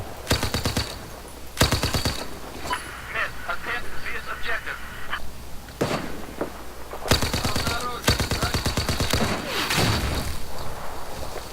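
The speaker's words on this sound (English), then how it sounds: "Oh, they're firing from the other side." Rapid automatic gunfire bursts in Battlefield 4 on the Gulf of Oman map, loud staccato volleys coming in waves from the other side, with scattered single shots, distant booms and faint talk between bursts.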